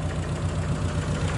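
A car engine runs steadily close by during an engine check before buying, a rough low idle hum with slight knocking texture and no clear rise in revs.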